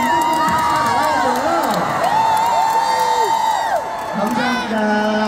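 A large crowd at a trot music festival in Daegu cheers and shouts loudly, many voices whooping and yelling together in a continuous roar that dips briefly before surging again.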